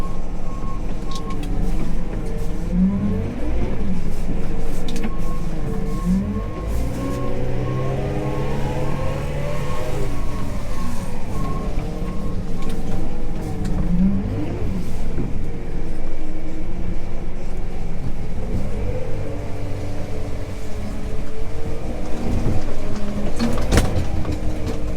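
A farm vehicle drives along at a steady pace with a continuous low engine drone, gear whine rising and falling as it speeds up and slows, plus occasional rattles and a sharp knock near the end, with no talking.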